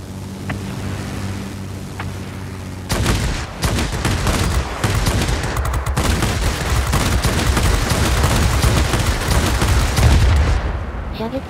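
Close, loud machine-gun fire from the Hayate, a Tier 7 Imperial Japanese Army fighter, in World of Warplanes. A steady engine hum gives way after about three seconds to continuous, dense rattling bursts that run to the end.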